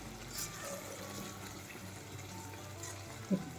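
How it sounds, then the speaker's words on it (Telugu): Water poured into a pan of frying stuffed brinjal curry with onion-chilli masala, a steady gushing hiss mixed with sizzle for a few seconds, ending in a small clunk. "నీళ్ళు వేసుకోవాలి."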